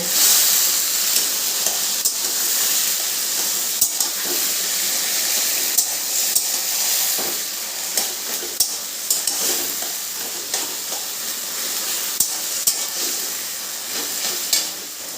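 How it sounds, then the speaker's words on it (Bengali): Taro leaves with salt and turmeric are stirred in a sizzling pan: a steady loud frying hiss with regular scraping knocks from the stirring, and no talk. "এবার এটাকে আমি ভালো করে মিশিয়ে নেব"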